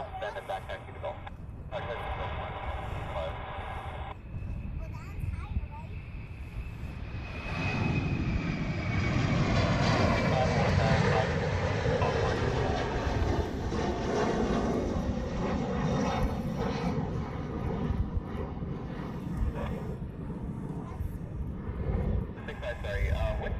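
Fixed-wing aircraft engines roar at a Hawaii airport during military plane spotting alongside A380 super-heavy jets, a steady broad rumble that swells louder midway and holds, with radio chatter and voices faintly present early on.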